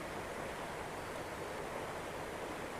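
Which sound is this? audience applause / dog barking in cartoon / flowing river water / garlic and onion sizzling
flowing river water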